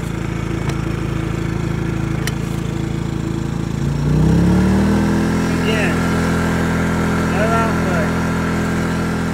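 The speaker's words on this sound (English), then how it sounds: "Generator's gonna rev down." An EcoFlow Smart Generator engine runs steadily, then revs up and settles into a louder constant hum partway through, while people talk nearby.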